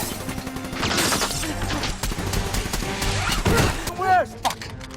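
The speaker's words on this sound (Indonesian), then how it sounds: "Kemudian mereka memberondong tower dengan senapan." Rifle gunfire sprayed at a tower in an action film, with dense bursts of shots and crashing impacts, loud and chaotic, mixed with voices.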